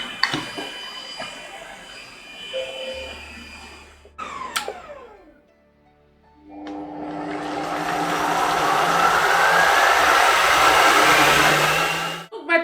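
A CompanionTouch food processor whirs at maximum speed blending butternut squash velouté with Morteau sausage, a loud steady motor roar after some clattering and a brief pause, with someone talking faintly beforehand.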